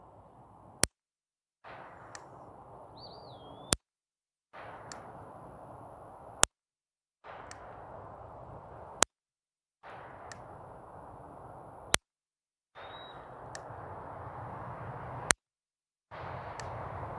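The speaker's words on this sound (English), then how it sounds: "Now let's take some shots with the Walther PPQ." A Walther PPQ .22LR pistol fires six sharp, isolated cracks spaced a few seconds apart, with faint low background hiss between the shots.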